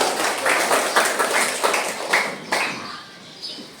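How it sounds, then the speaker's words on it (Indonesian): Students in a classroom clap their hands in a brief round, the claps fairly close and uneven, thinning out and fading toward the end. "tepuk tangan buat kalian semua"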